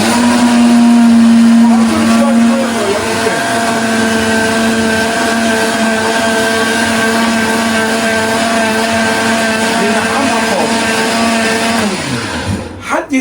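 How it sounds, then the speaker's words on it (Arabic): A loud blender whirs steadily as it blends a rice kofta mixture with a little water, its motor pitch wavering slightly as it churns, then winds down at the end; no talking. "شغلنا الخلاط اهو."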